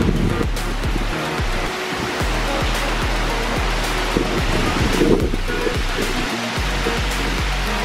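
Heavy hurricane wind and driving rain roar steadily and loudly close to the microphone, with gusts buffeting it throughout and no talk.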